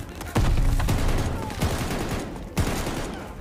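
A machine gun nest fires in Call of Duty Vanguard: dense bursts of automatic gunfire with heavy booming impacts, loud and close throughout, with short separate volleys.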